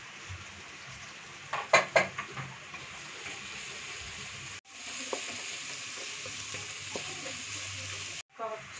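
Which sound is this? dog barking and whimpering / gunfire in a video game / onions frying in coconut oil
onions frying in coconut oil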